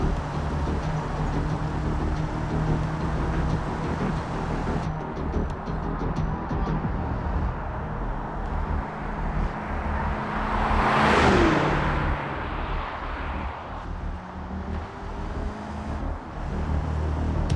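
An Ibishu Solana car drives down a highway in BeamNG.drive, giving a steady engine drone and road noise with a louder whooshing swell partway through, then settling back to an even hum.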